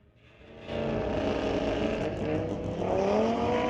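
A 2019 Audi at a street-legal drag strip, heard from the spectator side, accelerates hard with a loud, steady engine roar that swells as it passes, with a rising pitch near the end of the run.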